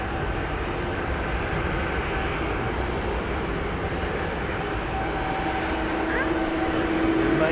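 A steady, loud roar of aircraft engines at an airport fills the air, a constant droning hum with a higher whine, heard continuously without a break.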